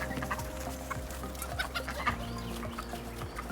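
Several chickens clucking in short, overlapping bursts close by, with a steady low background hum and no talking.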